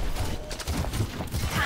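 Gunfire in the Overwatch video game as a player shoots an opponent in a one-on-one match: a dense, continuous clatter of shots at moderate level.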